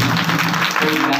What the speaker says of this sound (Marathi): अशा टाळ्या वाजायचं बरं यांच्यासाठी